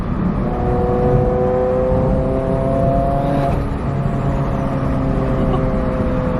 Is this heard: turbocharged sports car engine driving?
yes